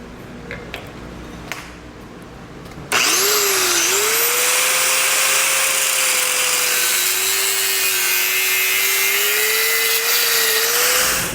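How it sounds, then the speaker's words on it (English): A cutoff wheel grinds through a thick metal S-hook with a wire keeper used on trailer safety chains, starting after a few seconds of quiet with a loud, steady high-pitched whine that wavers in pitch as it bites into the steel. "it's easier to just take your cutoff wheel and just cut this off of here"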